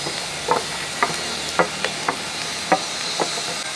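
Chopped onions and green chillies frying in coconut oil for a Kerala beef kurma, a steady soft sizzle with scattered light scraping taps of stirring, close and alone.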